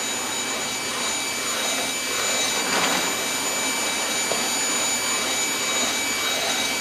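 A coffee roaster runs with beans tumbling inside, a steady broadband whooshing roar of fan and drum that holds level throughout, with a brief brighter crackle partway through.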